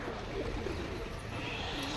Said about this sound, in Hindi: ये देखिए कुछ कबूतर उड़ रहा है अपने